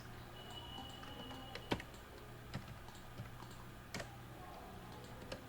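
Keystrokes on a computer keyboard while entering a new record into a database table, faint irregular taps scattered over a steady low background hum.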